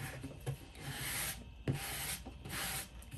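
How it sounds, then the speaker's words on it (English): A Dollar Tree sanding block rubs over playing cards in close, dry scratchy strokes, in about three rhythmic passes with short pauses between them and no talking. "I'm just literally running my Dollar Tree sanding block over the cards, front and back."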